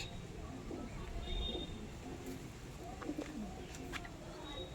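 Feather-footed pigeons coo softly in a low, faint murmur, with a few brief chirps over quiet background noise.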